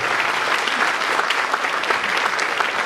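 Audience applause at a speech for a real-estate developers' sustainability event on World Environment Day: dense, steady clapping from a crowd, fairly loud and continuous throughout, with no voices on top.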